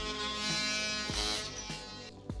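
A small power tool whines steadily at close range while cutting a small hole in a wall, its pitch dipping several times as the bit bites into the material.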